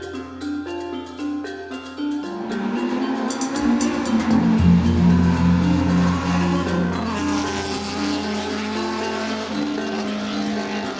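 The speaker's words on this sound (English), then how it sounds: "Hands down, by far, the best single exhaust I've ever heard." A car engine with a Jay's Racing single exhaust idles, then revs up into a deep, loud, droning exhaust note that holds steady and sustained, with no talking.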